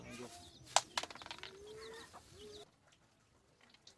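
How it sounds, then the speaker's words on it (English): Chickens clucking at feeding time in a backyard in Kibera, Kenya, with busy close clucks and a few sharp squawks early on before the sound cuts to a quieter, distant background. "first chore is to feed his chickens"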